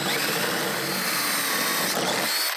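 A power drill with an 8 mm bit bores through a Land Rover Defender body panel, a loud, continuous high-pitched whine with a metallic grinding edge that holds steady, then cuts off.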